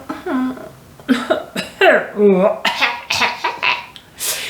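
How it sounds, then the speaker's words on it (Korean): A storytelling voice speaks, breaking into a gruff throat-clearing sound amid the talk. "도시쥐가 헛기침을 하고 코를 펄렁펄렁하고"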